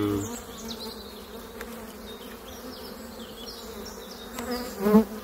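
Agitated honeybees from a swarm buzzing constantly around an open hive, a dense close hum with individual bees darting past and one loud buzz near the end.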